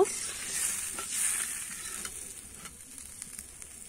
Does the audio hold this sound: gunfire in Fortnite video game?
no